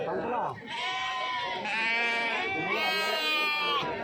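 Several goats bleat repeatedly in loud, drawn-out wavering calls at a Kadiri sheep and goat market, with nearby people talking amid the livestock.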